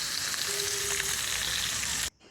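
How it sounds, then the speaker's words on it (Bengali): Steady, loud sizzling of fish frying in hot oil in a kadai, continuous for about two seconds before cutting off abruptly. "এখানে মাছ ভাজা হচ্ছে কড়াইতে"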